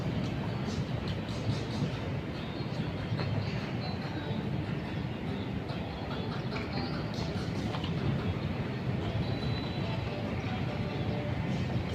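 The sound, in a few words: train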